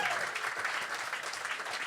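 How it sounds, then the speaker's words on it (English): Live comedy podcast audience clapping for a guest named Donna, a dense burst of applause from the crowd filling the room, steady and moderately loud across the short moment. "Round of applause for Donna, please."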